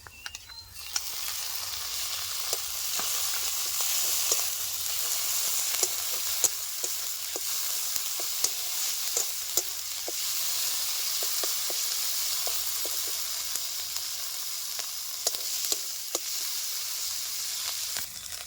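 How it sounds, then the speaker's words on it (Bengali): Continuous crackling sizzle of ground spice paste frying in oil with bay leaf and chopped onion, with frequent sharp pops and occasional utensil clicks, close and steady throughout. "পেস্টটা ভাজা ভাজা হয়ে আসতে দিয়েছি বাটা মশলা"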